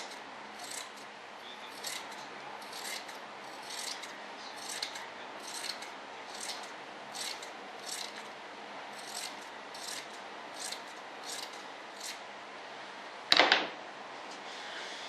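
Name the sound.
trimming material with scissors, RC jet build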